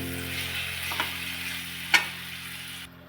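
Spices and red chilli powder frying in oil in a pan for a spicy mixed dal, giving a steady close sizzle with a couple of brief clinks from stirring.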